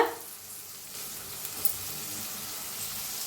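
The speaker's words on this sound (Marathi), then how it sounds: "बारीक अशी कापून घेतलेली हिरवी मिरची भाजून घेऊया कांद्याला कांद्याच्या पातीला" Chopped onion, spring onion and green chilli fry in a pan for egg fried rice, a soft, even hiss of sizzling oil that holds steady with a couple of faint ticks.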